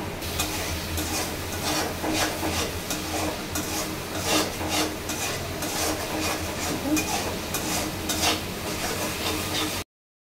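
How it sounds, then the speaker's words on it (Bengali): Spice paste with cumin powder and a little water is stirred and fried in oil in a pan for a dried mola fish and potato curry, giving steady, close scraping and stirring with a faint sizzle throughout. "মশলাটা ভালোভাবে কষানো হয়ে গেছে। এই যে তেল ছেড়ে দিয়ে দিছে।"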